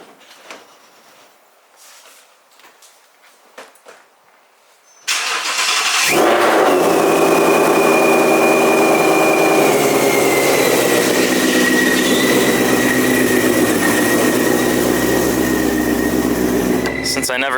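Shelby GT350 with a supercharger fires up after a quiet stretch of faint movement and handling noises, the engine catching loudly and settling into a steady, rumbling idle that holds close and strong to the end.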